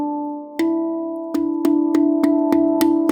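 A handpan rings with sustained overlapping tones as two neighbouring scale notes are struck alternately in a quickening series of sharp hits, their close pitches beating against each other in a shimmering, dissonant blend; no speech.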